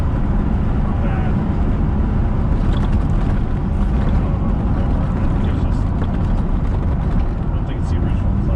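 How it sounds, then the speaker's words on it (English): A 1973 Corvette convertible's 454 engine idles loudly with a broad, steady roar, its clutch fan adding a rushing whoosh on top that holds constant throughout. "When the RPMs come up, you can hear more fan noise."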